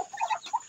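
Chickens in a small backyard farm pen clucking in a few short, close bursts during a cold spell, with no talking.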